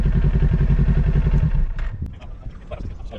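A motorcycle ridden around an endorsement test course, its engine running loud and steady at first, then easing off to a lower, rougher idle with a few clanks and knocks near the end.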